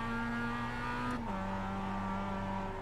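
Race car in the iRacing simulator at Motorsport Arena Oschersleben, its engine note dropping in pitch as it brakes hard into a corner, a steady droning tone heard alone and fairly faint.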